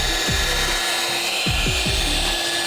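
A rotary polisher buffs compound across car paint, giving a steady close whir with rising and falling pitch sweeps as the pad glides and shifts pressure.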